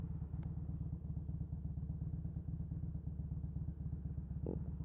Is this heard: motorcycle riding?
yes